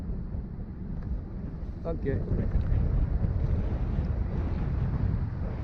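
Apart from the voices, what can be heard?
wind gust noise on the microphone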